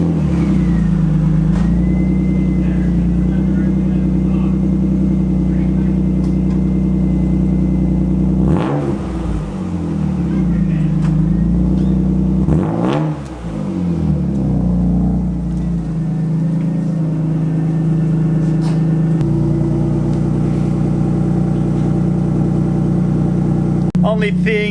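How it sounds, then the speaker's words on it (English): A BMW E36 M3 with a homemade cat-back exhaust drones steadily at idle and rises in two sharp revs before settling back, loud and close, with someone speaking briefly. "Let me put the car down, then we'll start it up"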